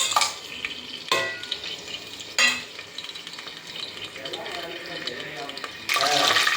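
Pulao vegetables and whole spices frying in a few spoons of hot oil, an ongoing sizzle punctuated by several loud stirring clatters, close by, with a louder burst of sizzling near the end, no talking.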